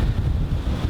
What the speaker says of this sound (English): Wind is really gnarly today out at the range.